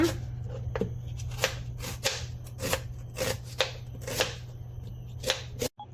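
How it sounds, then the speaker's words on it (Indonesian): Shallots being chopped with a knife on a board for Singapore-style sambal goreng, giving a series of crisp, irregular close taps and cuts over a low steady hum. "Sekarang saya potong bawang merah."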